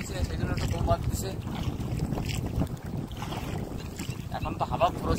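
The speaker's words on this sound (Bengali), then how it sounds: "এখন তো হাওয়া প্রচুর হচ্ছে বন্ধুরা" Strong stormy wind roars and buffets the microphone during hook fishing by the water, loud and continuous with gusts, while people talk under it.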